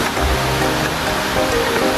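Heavy rain pours steadily in a rural fishing area, a dense, close hiss of drops hitting surfaces with no voices.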